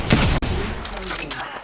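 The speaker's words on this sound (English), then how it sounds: "Being shot at." Rapid gunfire in a video-game firefight, loud and close, with a sharp burst of shots followed by a rumbling, echoing tail and scattered further cracks.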